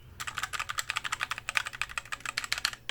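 Rapid, crisp clicking of a Redragon Kumara mechanical keyboard with Outemu red switches, dozens of close keystrokes in a quick uneven rhythm, heard alone.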